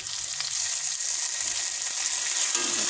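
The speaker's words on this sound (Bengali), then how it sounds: "আলুটাকে ভেজে নিচ্ছি" Potatoes fry in a pan with a continuous, close, even hiss of hot oil, broken only by faint occasional taps, with no talking.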